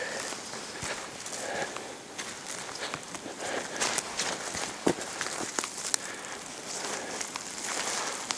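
Footsteps move down a forest path past a broken spruce toward a trap line, each step a close, irregular crunch over leaf litter and twigs, with steady rustling between the steps.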